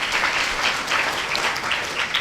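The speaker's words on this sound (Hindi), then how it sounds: "उनके सबके लिए आप ताली बजाकर स्वागत" Audience applause breaks out to welcome guests at a satsang gathering during a Kabir Jayanti festival at an ashram, a steady dense patter of many hands clapping at moderate loudness with no voices over it.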